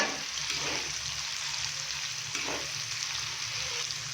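Finely chopped onions frying in hot oil for an egg and okra dish, a steady close sizzle with occasional stirring scrapes and no voices.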